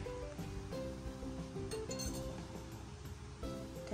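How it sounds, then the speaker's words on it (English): A marinated chicken breast for adobo goes into an already hot pan, giving a broad, steady sizzle with a few light clinks and a brief bump of the pan. Close and continuous, with no talk over it. "My pan is already hot. I'll just put it in the pan,"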